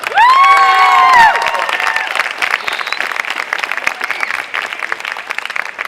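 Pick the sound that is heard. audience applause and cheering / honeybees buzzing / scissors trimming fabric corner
audience applause and cheering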